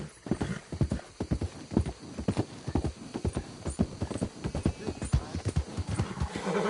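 Rhythmic clip-clop of horse hooves in the video game Red Dead Redemption 2, steady and close, with an occasional snort or whinny mixed in.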